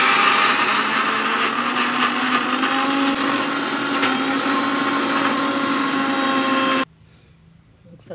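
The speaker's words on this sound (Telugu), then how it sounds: "మిక్సీ ఆన్ చేస్తున్నాను." An Indian mixer grinder with its jar and lid on whirs loudly and steadily at close range for nearly seven seconds, then cuts off abruptly into near quiet.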